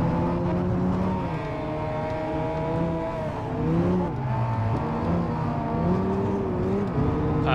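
Race car engines in Gran Turismo 5 drone steadily throughout, their pitch climbing and dropping as the cars accelerate and shift gears, loud and close with no talking over them.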